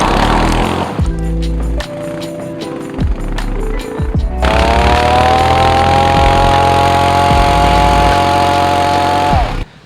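A BMW G-series motorcycle engine runs loud and close while off-roading near Singur Dam, a rough revving drone that drops briefly, then rises into a steady, strong climb with a smooth, rising pitch.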